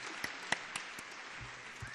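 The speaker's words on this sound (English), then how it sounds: "I think he deserves another round of applause, too." Applause from the audience at the 2008 Glendale student showcase. It is a soft, steady patter of clapping with a few sharper individual claps standing out, fairly distant and faint.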